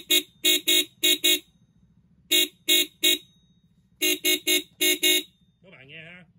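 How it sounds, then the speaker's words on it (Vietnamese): A cheap fake Denso car horn with a raspy, buzzy tone sounds in clusters of short, loud beeps with brief gaps between groups. Someone begins talking right after the last honk. "Các bạn nghe ha, đây là âm thanh của hàng phát ha."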